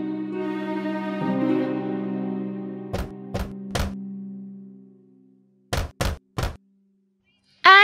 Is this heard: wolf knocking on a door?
yes